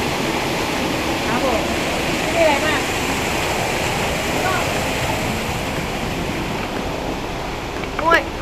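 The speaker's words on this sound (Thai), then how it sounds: "เราอยู่ในน้ำตก เราเข้ามาในน้ำตก" A waterfall along the Mae Taeng area in northern Thailand, heard from inside the falls: a steady, broad rushing roar of water, fairly loud and constant, with faint voices and a brief bump near the end.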